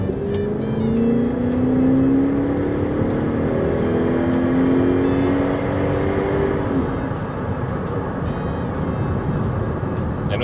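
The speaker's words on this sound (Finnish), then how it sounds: "katsotaanhan miten se V8 jaksaa meitä puskea." A 2001 Nissan Cima F50 with a V8 engine accelerates on a country road, heard from inside as a loud steady engine drone that rises smoothly in pitch over several seconds with road noise underneath.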